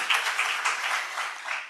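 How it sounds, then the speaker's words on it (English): Audience at a regional African BioGenome Project scientific meeting applauding a young scientist, dense steady clapping from many hands throughout, fairly loud. "Let's give this young scientist a round of applause."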